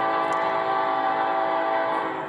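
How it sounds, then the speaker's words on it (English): A freight train heads north at night toward the United States from northern Mexico, its horn blaring as a loud, sustained, multi-tone blast over the rumble of the rails. "A freight train heading north towards the United States."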